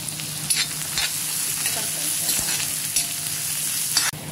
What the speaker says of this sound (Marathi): कांदा आणि मिरची तेलामध्ये टाकून घेतली आहे